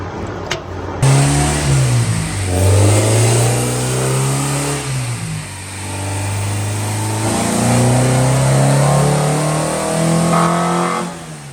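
A car engine revs hard through two long pulls, its pitch climbing steeply as it hits VTEC, with a brief dip between them. The sound is loud and close.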